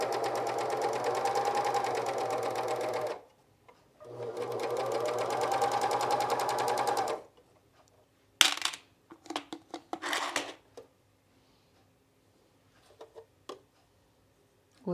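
A sewing machine stitching a camisole with a bra shelf and fold-over elastic runs in two long steady bursts, then gives way to a scatter of short clicks and handling knocks close by.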